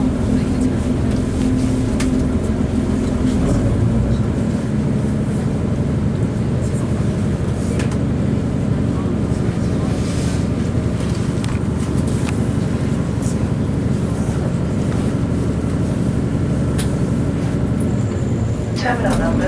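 A train rolling into Manchester Airport station, a steady low rumble and rattle of the carriages heard from on board, continuous throughout with a faint voice underneath.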